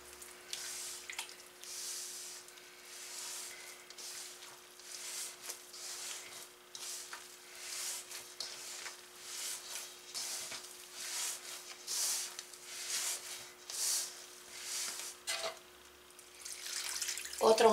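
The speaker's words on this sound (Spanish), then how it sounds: "Yo le voy a estar poniendo primero 1 litro de agua." Water is poured into masa dough for vegan red mole tamales with mushrooms, a soft, continuous splashing and trickling stream that surges and eases in pulses, close by, steady over many seconds with no talk.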